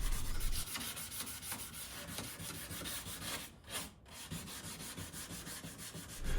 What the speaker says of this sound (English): Even though I'm scuff sanding all of these pieces